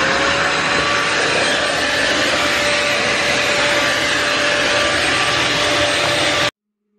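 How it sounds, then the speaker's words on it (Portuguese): A new vacuum cleaner runs on a floor with a loud, steady whine and rushing air for several seconds, then cuts off abruptly. "Então eu vou fazer o teste do aspirador."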